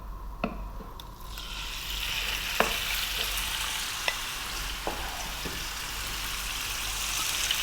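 Beef frying with cumin seeds in a hot pan, a continuous dense sizzle that swells as the meat goes in, with occasional isolated clicks of a utensil against the pan, near and steady, no voices.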